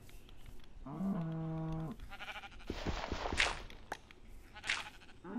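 A sheep in Minecraft on PS4 bleats once in a long wavering cry, followed by scattered clicks and brief higher-pitched animal calls against a quiet background.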